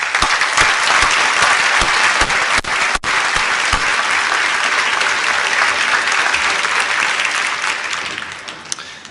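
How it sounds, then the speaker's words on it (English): An audience at a membership address breaks into loud, sustained applause for the NewMac employees, dense clapping from a large crowd that gradually tapers off toward the end. "Let's give them a round of applause"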